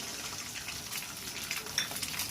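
Beaten egg frying in hot mustard oil, a steady soft hiss and crackle of sizzling with faint bubbly spits, constant and close throughout with no talk.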